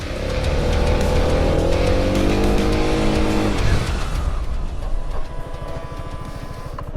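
A 2023 Yamaha XMAX Connected scooter accelerates along a straight, its engine note climbing loudly and steadily, then dropping away into quieter rushing wind and road noise.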